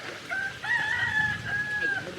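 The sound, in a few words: chickens clucking in a village among rice terraces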